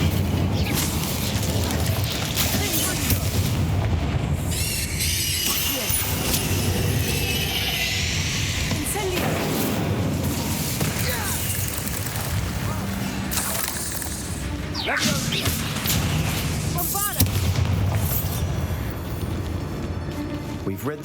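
Incendio fire spell blasts in the Hogwarts Legacy video game, a run of crackling, whooshing bursts with sharp impacts over a busy rumbling game soundscape, and a voice speaking throughout.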